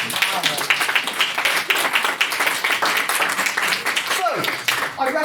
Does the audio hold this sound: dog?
no